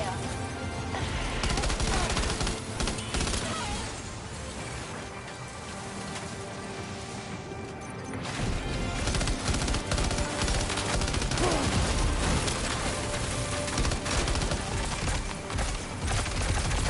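Dense, sustained bursts of rapid automatic gunfire from the video game Death Stranding 2, loud and crackling with a rain-like rattle, easing briefly midway before resuming at full intensity.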